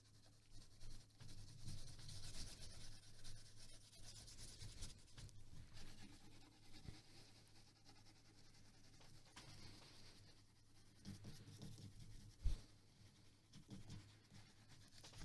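Graphite pencil shading a portrait drawing on paper, a quiet, continuous scratchy rubbing with uneven back-and-forth strokes and one brief tap, close up with no talking.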